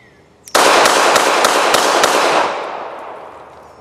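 A single sharp, loud report from a Beretta Model 80X Cheetah pistol cracks close by, followed by a decaying echo lasting a few seconds.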